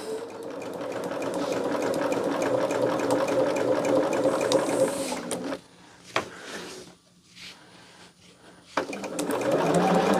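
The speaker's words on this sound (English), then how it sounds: "But we are going to just get this sewn on and get it to that first corner there." A sewing machine stitching a quilt piece runs in a fast, steady whir for about five seconds, then stops and gives a few short bursts before starting up again near the end.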